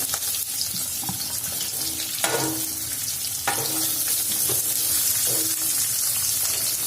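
Sliced onions sizzle steadily in hot oil with cumin seeds and curry leaves, a continuous close frying hiss broken by a few scraping stirs of a spoon against the pan, with no voices.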